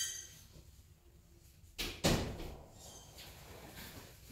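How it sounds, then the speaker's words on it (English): A door shuts indoors with a soft slide and then a firm thud about two seconds in, followed by a faint rattle settling in a quiet room. "I'm just going to shut the door."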